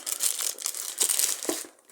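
A small knife cuts open a tape-wrapped parcel, giving close, loud bursts of crinkling and tearing with brief pauses and a softer trailing rustle.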